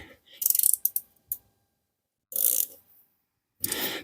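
Bolt being unscrewed from a scooter gearbox filler, with short ratcheting mechanical clicks in a few bursts separated by quiet gaps, close and moderately loud.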